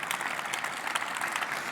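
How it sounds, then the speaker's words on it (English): A lecture audience applauds warmly, a dense burst of clapping from a crowd that holds steady through its short length. "Oh, a warm applause, please."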